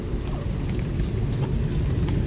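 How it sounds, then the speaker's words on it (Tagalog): Heavy rain pours steadily over a garden where upland Chinese kangkong is being planted in sacks, a dense, continuous hiss that stays loud and even throughout with no voices. "ang lakas ng ulan"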